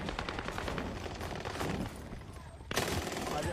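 Rapid gunfire from an online shooter video game, dense bursts of shots crackling continuously with a sharper, louder volley near the end, over a busy game mix.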